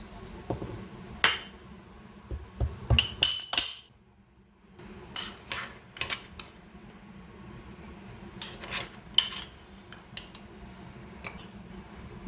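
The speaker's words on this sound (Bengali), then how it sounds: "এবার একটা হামানদিস্তা নিয়ে ফুলগুলোকে ভালোভাবে ফাটিয়ে নেব।" A brass mortar and pestle cracks jujube fruits for pickle: sharp metallic clinks and pounding strikes come in irregular clusters, loud and close, with short pauses between bursts.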